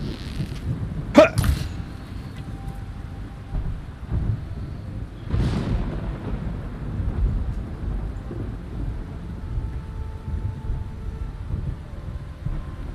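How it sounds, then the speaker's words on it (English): Thunder rumbles and cracks in a stormy scene in the video game Horizon Forbidden West, with two sharp bursts early on and another loud roll around the middle over steady rain-like noise. "is that a thunderstorm?"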